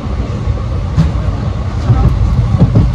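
A passenger train runs on the line between Tripura and Kolkata with a steady low rumble and faint rhythmic clatter of wheels, heard from inside the carriage at close range.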